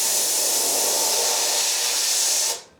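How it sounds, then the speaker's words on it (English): An airbrush sprays white paint along a taped edge with a steady, close, broadband hiss that holds evenly for over two seconds, then cuts off abruptly. "I'm trying to really direct my spray down into the edge of the tape"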